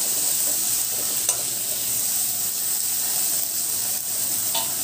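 Chopped ginger and a small tomato are stirred together in a hot frying pan, a steady close sizzle with a couple of soft spoon clicks and no talk.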